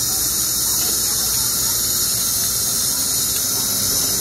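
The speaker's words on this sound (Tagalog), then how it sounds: "Naka-pressure cooker po yan." A pressure cooker softening beef hisses with a steady, loud, broadband spray of steam that holds without a break from start to finish.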